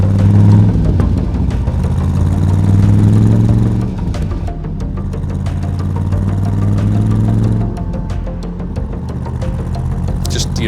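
A 1957 Fuelie Corvette with extremely loud side exhaust pipes tucked under the rocker panels, its engine droning and revving in steady loud swells that rise and fall twice, heard close up without talk.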